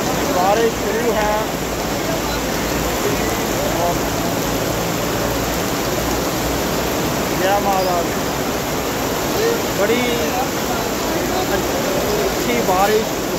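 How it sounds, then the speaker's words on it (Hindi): Heavy rain pouring down during the Chintpurni Mata fair, a dense, loud, continuous roar with people talking and chanting over it. "देखिए बारिश शुरू है"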